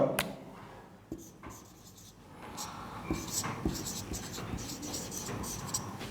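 A pen scratches across paper while an application is written, with light intermittent strokes that grow busier and more continuous partway through, and soft murmuring in the background.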